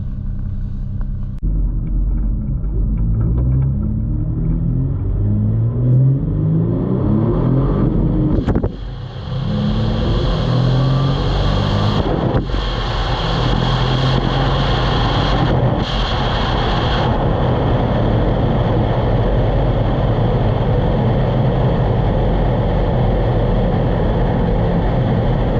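A car on a test drive back to the house, a loud close engine rumble rising and falling through gear changes and acceleration, then settling into a steady cruising drone.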